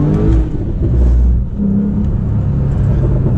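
A Porsche 996 911 accelerates close by, a loud, steady engine rumble and whir that rises and surges over a few seconds with no talk.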